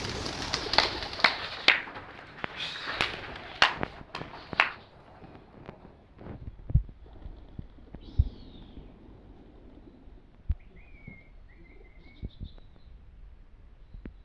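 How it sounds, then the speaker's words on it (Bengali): A flock of domestic pigeons takes off together with a burst of loud wing flutters and claps, followed by quieter scattered flaps and soft cooing as the birds settle. "এখন কবুতরগুলোর খাওয়া শেষ, তো এখন আমি সবগুলো উড়াবো"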